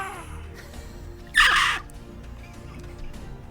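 A person imitating a sickly eagle cry for a pet bird named Nunu gives one harsh, raspy screech lasting about half a second, loud above a low steady background hum.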